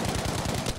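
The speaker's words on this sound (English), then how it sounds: "This guy's shooting at us." Rapid automatic gunfire in the Battlefield V video game, a steady fast burst of shots filling the whole short moment without pause.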